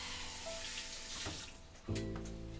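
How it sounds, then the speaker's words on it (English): Tap water runs steadily into a sink as dirty potatoes are rinsed a second time outdoors in Tokyo, a constant close splashing hiss that briefly dips, then returns louder and fuller. "Rinse number 2, because taters are dirty."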